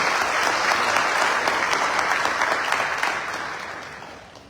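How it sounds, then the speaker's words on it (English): An audience at a Devi Mandir temple gathering in Pickering applauds after devotional bhajans, dense clapping from a sizable crowd that holds steady and then gradually fades out. "So big round of applause for Panditji."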